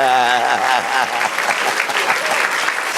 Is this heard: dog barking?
no